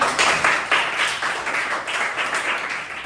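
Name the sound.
audience applause for Cen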